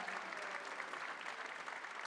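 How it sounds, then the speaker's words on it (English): Steady applause from a dance recital audience at the curtain call, a dense wash of clapping heard from some distance, fairly quiet and unbroken throughout. "So a round of applause for these amazing people,"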